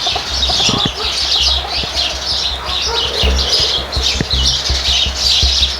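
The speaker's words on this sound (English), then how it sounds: "but the birds are going crazy." Birds in a barn flap their wings and chirp continuously, a dense flurry of bright tweets layered over fluttering and low thumps throughout.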